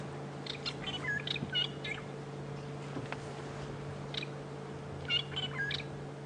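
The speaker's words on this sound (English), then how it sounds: "the noise you can hear is a pair of fork-tailed drongos" A pair of fork-tailed drongos calls on a safari drive at Djuma Game Reserve, giving scattered bursts of bright, metallic, chime-like notes. The calls are moderately distant and sit over a steady low engine-like hum.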